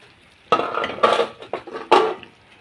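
A spatula scrapes and clanks against a large pan of sponge gourd stir-fried with pork and fresh chili, in four or five loud, close, irregular bursts.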